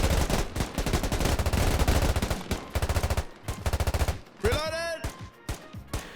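Rifle and automatic gunfire in the military video game Squad, loud rapid bursts of shots in close succession with brief pauses, ending with a voice or ringing tone cutting through.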